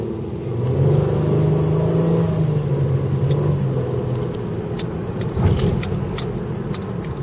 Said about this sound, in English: And now we're booting the Mustang. And a little driving footage off the line.